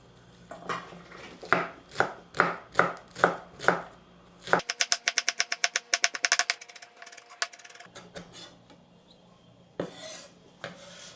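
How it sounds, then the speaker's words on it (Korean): A knife chops green onions on a board up close: about seven slow, even thuds, then a fast rattling run of some twenty quick chops, a pause, and a final short burst. "그리고 파를 좀 송송 썰고."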